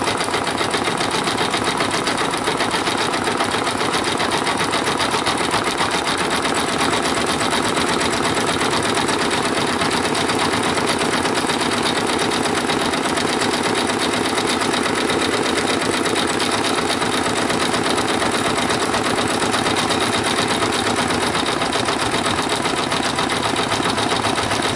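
Brother sewing machine embroidering a rain jacket hood in fluorescent orange thread, a steady, fast, loud mechanical whir and needle chatter that runs unbroken throughout.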